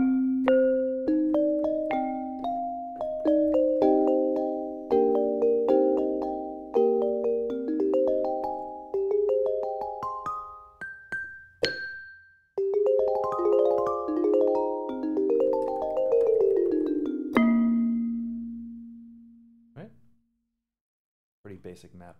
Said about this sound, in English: This is the glass marimba.